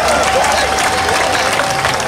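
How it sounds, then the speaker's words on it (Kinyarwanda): A comedy show audience claps in a dense, steady burst of applause that fills the whole moment, with faint crowd noise and a voice underneath. "ndashaka ko mugikomera amashyi"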